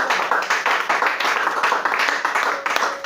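A church congregation at a Sunday service claps in a brisk, rhythmic unison beat, loud and close, repeating steadily with a few voices mixed in.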